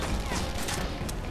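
A sniper rifle shot in Red Faction Guerrilla, heard as a loud, dense burst of gunfire crackle across a short stretch, with sharp cracks near the end.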